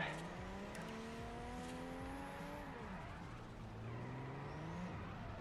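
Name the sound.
Toyota Supra car driving in video game Forza Horizon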